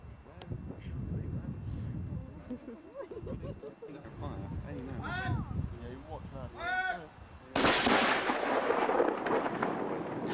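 A historic cannon fired by lanyard with a reduced charge at Plymouth Breakwater: one sudden loud blast cuts in after people talking over wind, then a long rumbling roar rolls on to the end.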